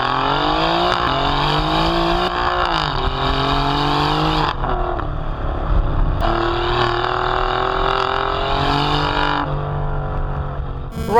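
An Alfa Romeo Giulia Quadrifoglio engine pulls hard from inside the car, revving up through the gears with rising tones broken by brief shift dips, loud and continuous with no talking.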